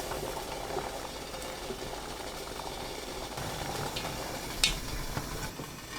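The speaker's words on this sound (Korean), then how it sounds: "찜기에 물이 끓으면 면포 깔고 열무 넣어주세요" Water boils in a steamer with a continuous bubbling rumble and hiss, steady and moderately close, with a brief clink near the end; no speech.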